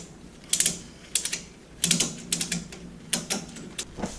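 Ratchet straps cranked to tie down a motorcycle on a Harbor Freight table lift, giving bursts of sharp metallic clicks in quick runs with short pauses, close and fairly loud, no talking.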